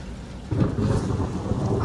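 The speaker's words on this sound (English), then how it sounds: "Starting to rain." Thunderstorm with steady rain outdoors on Halloween at a holiday park, a rolling rumble of thunder swelling suddenly halfway through over continuous rain noise, loud and close with no talking.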